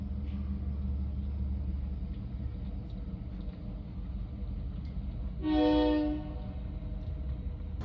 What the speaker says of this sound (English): Here's another bad catch of BNSF 705. It was leading a grain train out of Minot